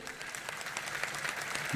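A large audience at a religious discourse by a Jain monk claps softly and unevenly, a thin steady patter of applause with no speech over it.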